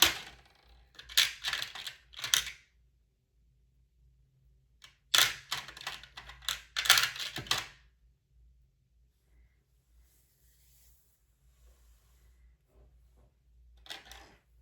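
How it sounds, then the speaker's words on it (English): Dice, a six-sided and an eight-sided, are grabbed and handled: several bursts of sharp clicking and rattling clatter, then a pause and a few faint taps near the end, close up and without talk. "So let me grab my dice real quick."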